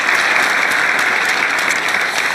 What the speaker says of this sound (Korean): 박수로 공유해 주시기 바랍니다.